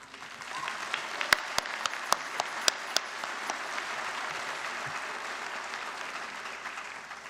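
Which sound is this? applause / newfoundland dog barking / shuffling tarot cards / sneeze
applause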